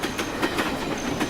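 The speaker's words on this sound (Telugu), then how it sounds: "అదే టైంకి రాలా ట్రైన్" A train rolling past at close range, wheels beating out a steady clickety-clack rhythm over the rails, loud and continuous with no voices.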